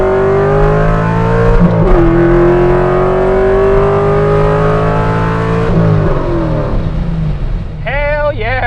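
Modified C5 Corvette accelerating hard from a 50 mph roll, a loud, close engine roar with steady rising harmonics and one brief gear change; the pull eases off near the end as faint whistling tones appear.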